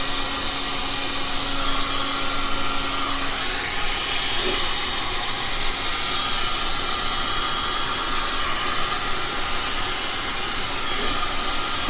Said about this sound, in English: I figured I might as well just blow from the center out